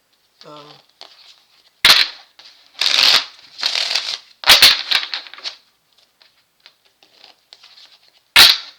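Tarot cards are shuffled and flipped in quick crisp riffles and slaps, with short bursts separated by quiet pauses and a brief voice near the start.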